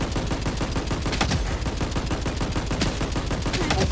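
Rapid automatic gunfire in the Blood Strike shooter game, a loud continuous burst of evenly spaced shots with sharper cracks mixed in, filling the whole stretch with no talk over it.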